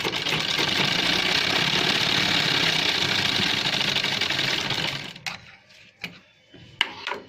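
A sewing machine runs in a steady, fast mechanical whir for about five seconds while double-stitching the sleeve of a men's shirt. It then stops, leaving a few faint clicks and taps.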